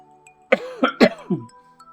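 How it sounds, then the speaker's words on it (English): Four harsh coughs in quick succession, close and fairly loud, the last one trailing off, over a faint steady hum. "I'm still coughing a little."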